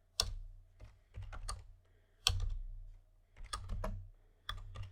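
Code being typed on a computer keyboard, quiet clusters of key clicks in short irregular bursts with brief pauses, close and soft, no talk.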